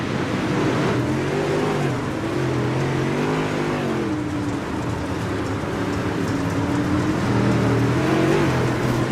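Several late model dirt track race cars roar at full throttle at Kokomo Speedway, a dense, loud engine wall with rising and falling harmonic sweeps as they accelerate past, continuous across the whole stretch with no talk.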